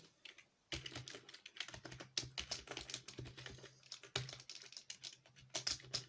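Computer keyboard keys are tapped in quick, irregular bursts of close, crisp clicks, with short pauses between runs.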